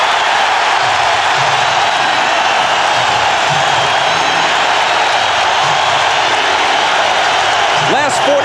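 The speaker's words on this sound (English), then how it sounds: "Crowd roaring." A packed basketball arena crowd roars loudly and continuously during the closing seconds of a 1998 NBA Finals game between Utah and Chicago, a dense steady wall of cheering, with a voice speaking faintly underneath.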